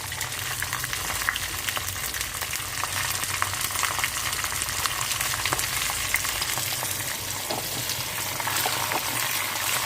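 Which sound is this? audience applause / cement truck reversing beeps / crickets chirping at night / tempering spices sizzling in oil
tempering spices sizzling in oil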